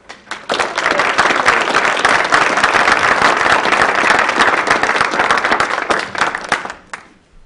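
An audience applauding to welcome Steve Bullock, a dense, loud wash of clapping that swells quickly, holds steady for several seconds, then tapers off near the end.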